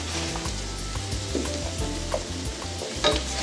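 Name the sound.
spinach added and stirred into a sizzling pan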